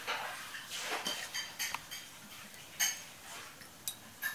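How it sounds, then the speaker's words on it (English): Dishes are washed in a nearby kitchen, giving faint, scattered clinks and clatters of cutlery and crockery at irregular intervals over a quiet background. "So now you probably hear that Lucas is doing the dishes"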